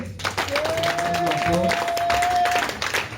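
A church congregation applauds during a worship service, with steady clapping throughout, a held sung or played tone in the middle, and voices mixed in.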